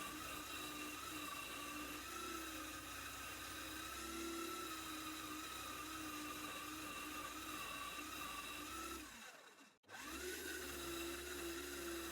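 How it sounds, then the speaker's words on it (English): A vacuum cleaner hoovers up loose sawdust in a woodturning workshop, a steady close whine running continuously and briefly cutting out near the end before resuming. "so I'll hoover up all that loose sawdust."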